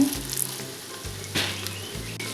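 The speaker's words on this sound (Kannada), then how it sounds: "ಸಣ್ಣದಾಗಿ ಹಚ್ಚಿಟ್ಕೊಂಡ ಶುಂಠಿ ಫ್ರೈ ಮಾಡಬೇಕು ಚೆನ್ನಾಗಿ ಸ್ವಲ್ಪ ಕೊತ್ತಂಬರಿ ಬೀಜ" Finely chopped ginger and coriander seeds fry in a pan for a village-style egg sambar, a loud close sizzle and crackle with repeated scraping stirs, no voices.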